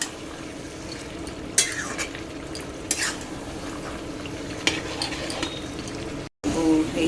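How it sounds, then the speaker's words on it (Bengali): Chicken masala with onion, tomato, potato, carrot, ginger and garlic fries in oil in a pressure cooker while a spoon scrapes and stirs it, giving a steady sizzle with sharp scraping strokes every second or two and no talk. "এই যে প্রেশার কুকারের চিকেন করছি, মানে মশলা কষাচ্ছি"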